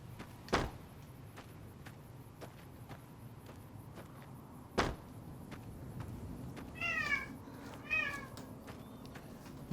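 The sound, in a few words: cat meowing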